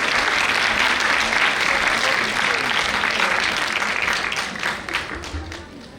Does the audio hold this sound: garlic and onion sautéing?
no